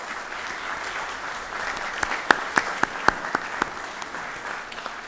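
Light applause at a city board of mayor and aldermen meeting for the police department, a soft scattered patter with a few sharper individual claps standing out, fairly quiet and distant.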